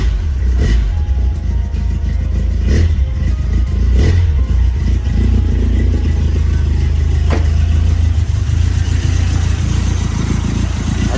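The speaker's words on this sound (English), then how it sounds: "Start up the truck real quick, test it out" A 1987 pickup truck engine rumbles steadily at idle with the choke on after carburetor and wiring work, close and loud, with a low continuous throb and occasional rattles; no clear start-up is heard.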